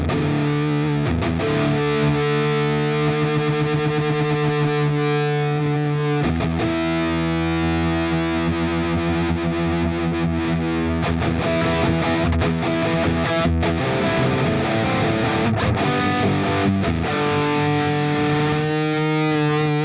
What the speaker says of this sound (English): Let's see if we can find some high gain sounds.